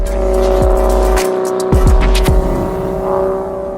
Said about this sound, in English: we're hearing the guys shaking down the car, and it is pure euphoria listening to that thing off in the distance